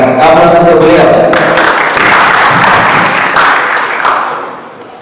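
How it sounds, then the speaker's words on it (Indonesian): An audience claps for a speaker being welcomed at an Indonesian talk on the Century case, with steady dense applause that holds through most of the stretch and fades near the end. "Aplaus untuk beliau."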